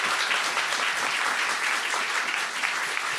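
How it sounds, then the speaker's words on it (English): An audience gives a steady, full round of applause welcoming Vinod Khosla, dense even clapping from many hands that stays at a consistent level from start to finish. "So let's give him a round of applause"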